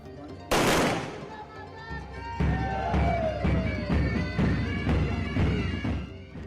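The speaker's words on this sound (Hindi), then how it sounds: "जवानों ने हवाई फायरिंग करके मां को परंपरागत सलामी दी।" Soldiers fire into the air as a ceremonial salute at a gathering in Muzaffarpur: one sharp, loud report, then a run of fairly regular shots, with crowd noise underneath.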